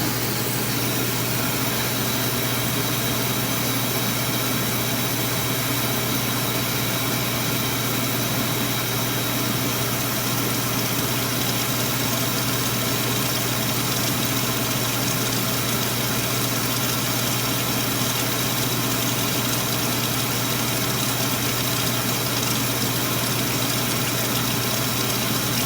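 A Ruud 80+ oil furnace with a failing oil pump runs as a steady, loud mechanical drone with a constant low hum, continuing unbroken throughout with no talk.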